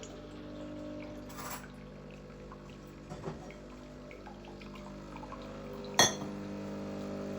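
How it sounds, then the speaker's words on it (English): A Breville Barista Pro BES878BTR espresso machine pours a shot of hot water into a cup under a quiet mechanical hum, with a soft chink near the start, a small clink midway and a sharper glassy clink later. "press the double button, and that's going to give you a shot of hot water"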